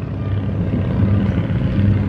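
A propeller aircraft drones overhead at an open-air flying circus airshow, a steady low engine rumble with gentle swells in loudness, fairly close and continuous with no voices.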